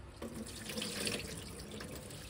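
Rice is washed in water under a running tap, giving a soft, steady stream of splashing and trickling with faint sloshing, quiet and close.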